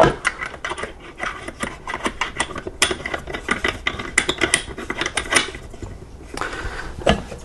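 A valve on a reloading powder dispensing system is unscrewed by hand, giving a rapid run of dry ratcheting clicks and small metallic ticks in close, uneven bursts with brief pauses.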